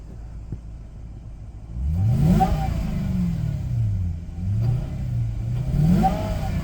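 A TOM'S Racing Toyota Celsior with a supercharged V8 of around 400 horsepower revs up close, climbing sharply, falling and rising again in repeated loud sweeps with supercharger whine.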